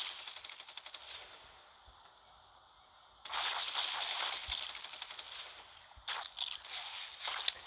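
Incendiary weapons in The Walking Dead: No Man's Land firing in rapid, rattling automatic bursts, one long stretch followed by a shorter one, with crackling noise between them, fairly faint overall.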